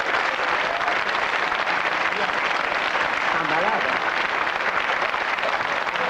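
A dense, continuous wash of applause fills a television studio during a French panel game show, steady and evenly loud throughout, with faint voices blended underneath.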